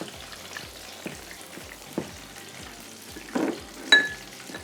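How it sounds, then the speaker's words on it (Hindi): Pizza parcels fry in hot oil with a soft, continuous sizzle, punctuated by a few light clicks and clinks of utensils or pans near the end. "ये पिज़्ज़ा पार्सल्स भी हमारे फ्राई हो गए हैं"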